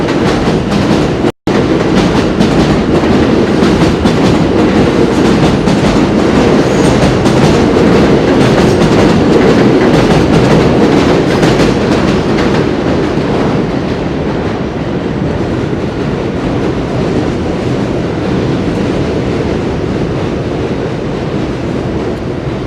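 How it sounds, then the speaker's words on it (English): A loud, continuous elevated subway train roar rumbles close overhead in New York, with rhythmic wheel clatter persisting throughout and easing slightly toward the end. "hope we can keep you company with the loud roaring trains overhead"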